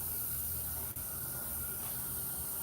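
A garden hose sprays water as a steady close hiss that runs nearly unbroken, apart from one brief dip.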